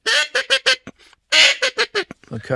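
A human voice imitates the call of a teal, a small fast-flying duck, with a rapid series of nasal quacking bursts in two short runs, loud and close, with no other talk.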